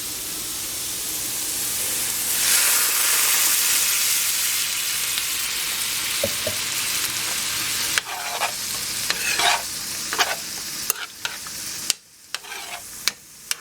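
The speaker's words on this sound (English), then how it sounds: "So I'm going to go ahead and put in that Marsala wine." Marsala wine poured into a hot pan for chicken marsala, setting off a loud, dense hiss that swells and settles, followed by scattered sharp clinks and scrapes as the pan is worked.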